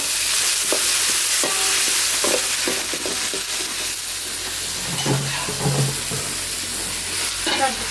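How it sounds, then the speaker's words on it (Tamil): Ginger garlic paste fries with onions, green chilies and curry leaves in a pan for a Tamil chicken fry, making a steady close sizzle broken by scraping stirring strokes, with no speech. "இஞ்சி பூண்டு பேஸ்ட் நல்லா வதங்கிடுச்சு"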